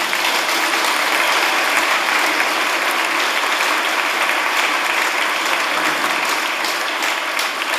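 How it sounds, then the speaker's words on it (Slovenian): A church congregation claps together in sustained, dense applause, loud and close, holding steady for several seconds without a break. "Tako, ploskamo,"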